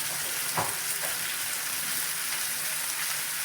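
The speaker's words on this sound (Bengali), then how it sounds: "গুড় দিচ্ছি সামান্য। ভালো করে নেড়ে নিচ্ছি।" Jackfruit chili with ginger, cumin and a little jaggery sizzles in a frying pan as it is stirred, a steady hiss of frying with a couple of soft scraping strokes near the start and no talking.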